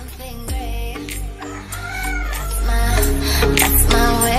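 A rooster crows inside a backyard chicken coop, loud and close, its long harmonic calls stretching and overlapping with other fowl sounds over several seconds.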